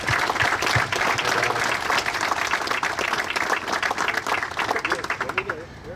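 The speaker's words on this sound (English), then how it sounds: "So I think we should give them a round of applause." Audience applause at a home dedication ceremony, a dense sustained burst of clapping from a crowd, loud and close, with a few voices mixed in, tapering off at the end.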